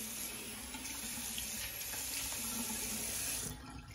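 Water pours steadily from a sink tap to wet the face before a razor shave, a soft continuous splash that cuts off near the end, with no talk.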